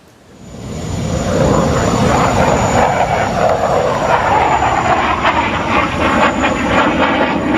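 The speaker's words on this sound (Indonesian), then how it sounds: "Sebuah jet tempur Tejas milik Angkatan Militer India terjatuh." An Indian Air Force Tejas fighter jet at the Dubai Air Show, a loud sustained jet engine roar that swells in within the first second and holds steady, broadband and rumbling, with no speech.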